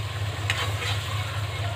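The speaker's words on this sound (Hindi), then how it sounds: "अब हम इन सारे मसालों को अच्छे से फ्राई कर लेंगे।" Spices with kasuri methi fry in a pan for an aloo bhindi dish, making a soft, steady sizzle over a low background hum, with one brief clatter of stirring near the start, close by and with no talking.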